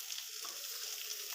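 Onion, crushed ginger and garlic fry in hot oil in a pan for an Assamese dish, giving a steady, close sizzle with no talking.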